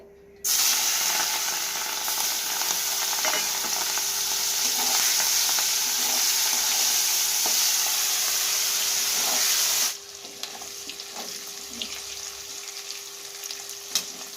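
Prawns coated with salt and turmeric fry in hot oil with a loud, steady, close sizzle that holds for about ten seconds, then drops to a quieter, crackling simmer.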